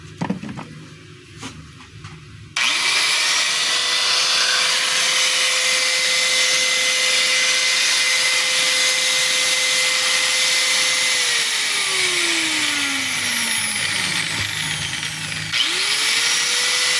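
DeWalt DW4010T 4-inch angle grinder after a field coil repair, switched on and running at a steady loud whine for about nine seconds, then winding down as it is switched off before a brief restart.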